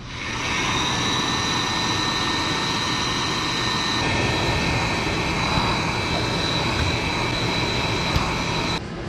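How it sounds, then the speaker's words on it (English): Heat gun running steadily up close, shrinking heat shrink tubing over a wire splice during work on a Plymouth Fury, a continuous loud blowing roar with a constant whine that lasts the whole time. "get your splice about to the middle of the heat shrink, and then hit it with the heat gun"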